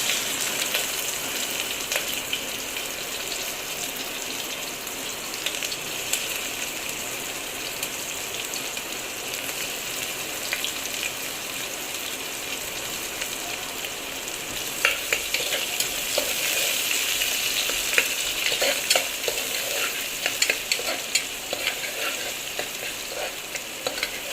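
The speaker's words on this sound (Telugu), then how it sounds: "ఇప్పుడు దీంట్లో ఆనియన్స్ ఇస్తున్నాను" Onions frying in oil in a pan for tomato rice, a steady close sizzle that runs without a break, with stirring scrapes and crackles that grow busier toward the end.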